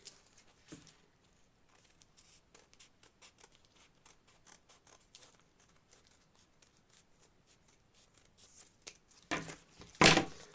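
Scissors snip through pattern paper while cutting out a rounded bonnet shape, a run of light, crisp cuts and rustles over about ten seconds, louder paper crinkling near the end.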